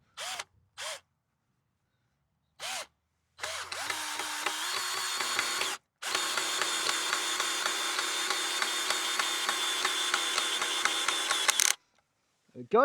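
Cordless power drill driving screws into a wooden bed frame. A few short trigger blips come first, then a long, steady whirring run of several seconds with a ratcheting edge. A brief spoken remark follows.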